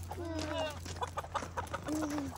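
Chickens cluck and squawk in a morning farmyard, several close calls rising and falling in short bursts, with a steady low hum underneath.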